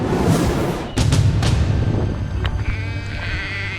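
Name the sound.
person imitating a sheep bleating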